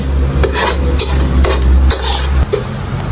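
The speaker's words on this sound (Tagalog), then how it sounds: "Gigisa na po, bango." Vegetables sautéing in a hot pan, with carrots among the ingredients, give a loud, steady sizzle broken by repeated bursts of stirring and scraping.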